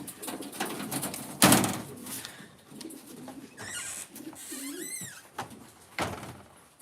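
Soft coos of young racing pigeons close by, layered with rustling, a sharp clatter and a few higher chirping calls, no talking.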